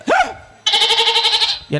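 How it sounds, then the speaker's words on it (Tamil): A goat bleats at an outdoor village folk comedy stage show: first a short rising cry, then a longer, loud, wavering bleat with a steady tremolo pulse, followed by the start of another call. "என்ன ஆடு கத்துது"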